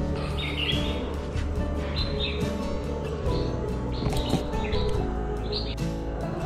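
Birds chirp and tweet in short repeated bursts around a cliff-top Ganesh temple at Anjarle, heard against steady low outdoor ambience with no speech.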